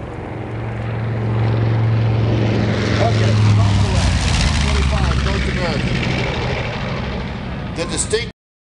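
B-25 bombers flying in formation at an air show, the drone of their twin radial engines swelling to a loud roar as they pass, then cutting off; a voice talks briefly underneath.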